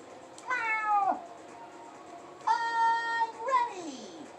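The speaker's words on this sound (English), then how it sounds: "Meow." Gary the snail from the SpongeBob Battle for Bikini Bottom video game gives two distinct meows, drawn-out and bending downward, then a third short meow, all clear against quiet game ambience.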